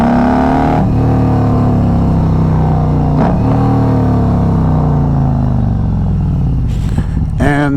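A Harley-Davidson Road Glide motorcycle rumbles steadily as it is ridden, a loud continuous engine drone with shifting tone and wind noise throughout, ending with a brief burst of rattle.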